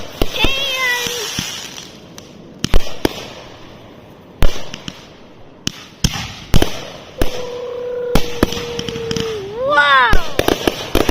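Fireworks canisters for a Fourth of July finale go off in a rapid series of sharp bangs and crackles, with rising whistles between the blasts and voices talking over the display.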